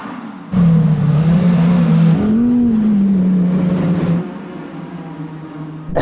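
An Audi R8 engine roars up loudly and steadily, the pitch climbing then settling as it accelerates from a standstill on snow with winter tyres, close by.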